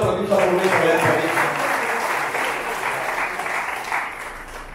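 Dense, steady applause from an audience at a bhajan event marking a senior bhajan singer's 75th birthday, holding evenly for several seconds while voices carry underneath.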